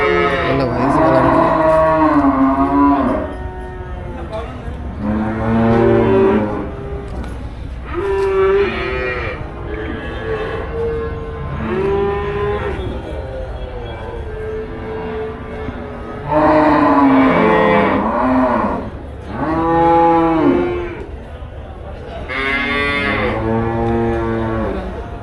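Cattle at the Melapalayam cattle market, including Jersey cows and bulls, moo loudly and close by. The long, drawn-out calls overlap and come again and again over a continuous crowded market background.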